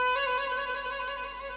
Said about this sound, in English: One of the most popular kinds is called a trill, and it sounds like this.